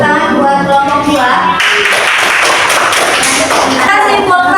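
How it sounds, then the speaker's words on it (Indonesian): A classroom group of students clapping for a presenting group, loud close rapid handclaps with some thumps and taps, mixed with voices talking and chanting over it throughout. "Tepuk tangan buat kelompok 2."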